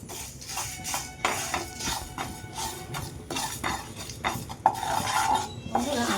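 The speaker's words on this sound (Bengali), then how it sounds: "প্যানটা আমার গরম হয়ে গেছে আমি যে মশলাগুলো তোমাদের আগেই দেখিয়েছি সেই মশলাগুলো আমি এক এক করে ভেজে নেব" Spices and chopped chillies stirred in a hot pan for green peas paratha, with repeated metal clinks and scraping of a spoon against the pan at close range and no talking.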